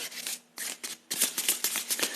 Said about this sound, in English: This deck is so easy to shuffle.